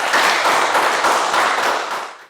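A school class applauding during a Year 3 science lesson, a dense burst of clapping from many hands that holds steady for about two seconds and then quickly dies away.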